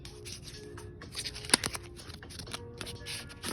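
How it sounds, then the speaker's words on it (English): A Versace gift card is opened, with soft paper rustling and rubbing, a sharp crisp tear or snap near the middle, close and quiet, no voices. "I'm gonna open up the card"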